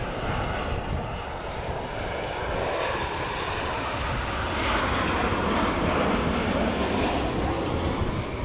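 An Emirates airliner, A6-EEV, arrives at Amsterdam Schiphol, its engines roaring in a broad, steady rumble that swells gradually as it passes close by.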